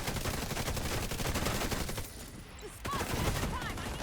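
A turret in a video game fires rapid sustained gunfire, a dense rattling barrage that dips briefly and then resumes, loud and continuous with no clear voices.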